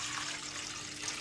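Water pours steadily into a cooking pot for boiling moringa leaves, a close, continuous splashing rush that lasts about a second with no talking.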